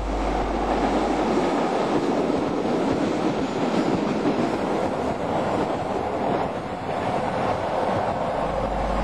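Milan metro train running on rails past the Gorgonzola depot, a loud, steady rumble and roar of wheels throughout, close by and without voices.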